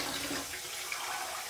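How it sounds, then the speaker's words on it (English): Warm water splashing and running from a tap at a bathroom sink while a face is wetted before a shave, a steady close wash of water with no talking. "let's wet the face with some warm water"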